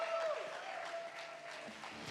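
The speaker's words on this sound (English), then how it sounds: "Give them a round of applause," Faint, distant applause from an audience at a film cast press meet, a soft continuous patter of clapping with little else over it.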